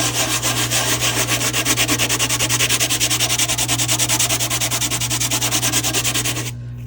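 A terrazzo keychain is rubbed by hand on sandpaper in fast, regular back-and-forth strokes, a loud close scratchy rasp that continues evenly for over six seconds before stopping.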